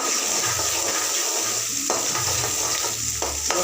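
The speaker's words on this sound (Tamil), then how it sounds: "எண்ணெய் வெங்காயம் மட்டும் போட்டிருக்கேன்." Onions sizzling in hot oil in a pan, being prepared for an egg stir-fry; a steady, close frying hiss runs throughout with occasional stirring scrapes and clicks of a utensil.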